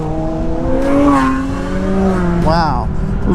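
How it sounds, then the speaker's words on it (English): Cars drive past on the Tail of the Dragon mountain road, with engines droning and rising in pitch as they rev close by, plus a brief higher whine near the end, all heard under steady wind. "those are some beautiful cars"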